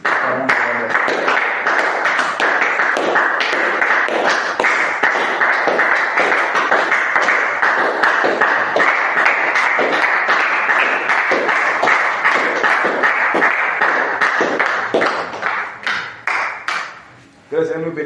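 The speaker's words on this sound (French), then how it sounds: "Acclamons le Seigneur Jésus" A church congregation at a revival prayer service claps and cheers in acclaim of the Lord, a dense, steady wash of many hands and voices that holds for most of the stretch before thinning briefly near the end.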